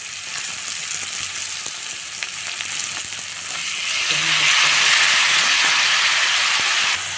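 Onions and tomatoes for gongura tomato curry frying in a pan, a close, steady sizzle that swells louder and brighter midway as more moisture hits the hot oil, with faint stirring scrapes.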